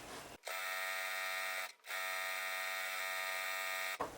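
A sewing machine quilting a wavy stitch on a quilt hums with a steady, buzzing motor in two runs, split by a short pause, and starts up again at the very end.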